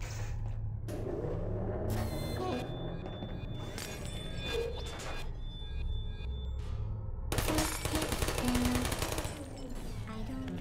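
Rapid turret fire in the sci-fi shooter Gamma Energy, bursts of automatic shots with clattering impacts over a steady low game hum, growing denser and louder toward the end.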